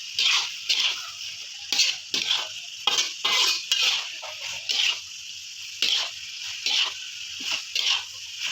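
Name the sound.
stir-frying tempeh fried noodles in a pan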